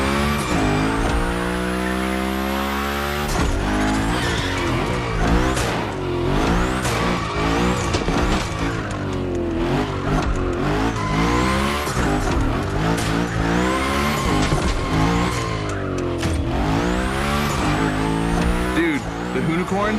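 Hoonigan car in a video game doing drift tricks, with sweeping engine revs and repeated tire squeals rising and falling over about twenty seconds against a loud, busy mix.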